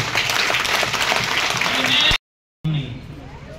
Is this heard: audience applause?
yes